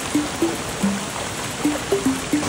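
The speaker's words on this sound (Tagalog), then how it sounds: "May iba't ibang uri ng falls dito." A waterfall and flowing water rush in a steady, dense broadband wash, with faint higher tones popping through at intervals.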